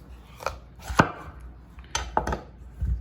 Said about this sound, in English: I have the papaya here completely peeled. Now what we do is cut down the middle.